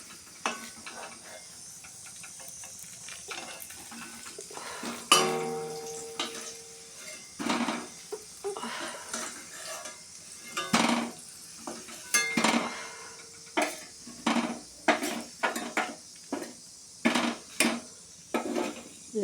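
Slices of pointed gourd (potol) frying in a pan on a home stove, a faint sizzle under repeated metallic clinks and scrapes of a utensil against the pan, growing into regular knocking strokes toward the end.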